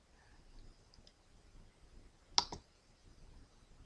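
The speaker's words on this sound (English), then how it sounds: "you can close the top with the click of a button" A single sharp mouse click in a Porsche 911 Targa 4 GTS online configurator, crisp and close against a faint, quiet room background, with a slight second tick right after.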